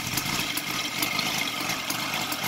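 A Sidel seven-cylinder 770 radial engine converted to CDI ignition and full gasoline idles very low, giving a steady, even hiss-like drone with faint pulsing, with no talking.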